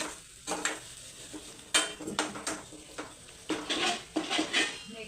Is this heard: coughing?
no